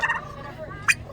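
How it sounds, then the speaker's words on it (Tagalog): A turkey gobbles in a quick, close burst near the end of a short moment. Earlier, a softer gobble sounds over a quiet background on a farm where a small Shih-poo dog is visiting the turkeys. "It's a turkey."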